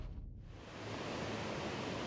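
Rain falls steadily outside, a broad, even hiss that swells slightly and then holds constant, with no voices.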